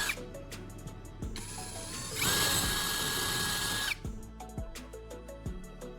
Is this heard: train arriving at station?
no